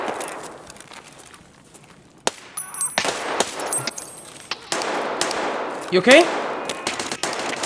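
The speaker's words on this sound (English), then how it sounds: "He's firing at me." Rapid bursts of automatic gunfire and single shots ring out in a tactical shooter firefight, sharp cracks scattered across several seconds with a louder close volley near the end, while a teammate briefly speaks over the action.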